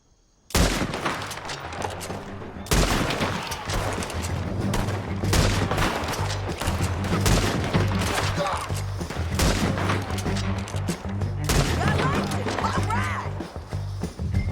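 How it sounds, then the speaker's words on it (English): Heavy gunfire erupts in Red Dead Redemption 2: dense, continuous volleys of rifle and pistol shots crackle loudly and steadily for the whole stretch, with hoofbeats and movement mixed into the din. "Let's just start shooting"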